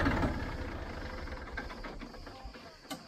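A farm tractor idling close by, a low steady engine rumble with faint mechanical clatter and a brief sharper knock near the end.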